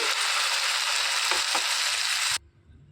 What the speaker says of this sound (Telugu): ఈ మిక్సీ పట్టుకున్న పచ్చడిని ఇందులోకి వేసేసుకోవాలి. తాలింపులోనికి